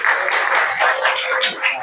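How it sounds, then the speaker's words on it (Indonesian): Students in a classroom clap together in a brief, steady burst of applause lasting under two seconds, with faint voices mixed in. "Tepuk tangan."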